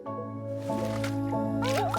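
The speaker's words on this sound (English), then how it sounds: "I want to go water my plants" Water pours onto plants in Wanderstop, a soft wet squishing and dripping over steady game music, with a light rising chime near the end.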